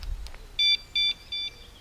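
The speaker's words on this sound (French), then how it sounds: "Donc dans le doute, je mets l'alarme." Alarm on a 125cc motorcycle being armed outdoors near a countryside chapel: three short, clear electronic beeps in quick succession, fairly close, with no talk.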